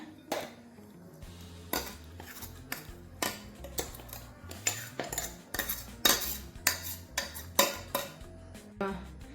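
Coarsely ground flax seed powder is scraped from a grinder jar into a bowl with a metal spoon, giving a quiet series of sharp clinks and scrapes in an irregular rhythm.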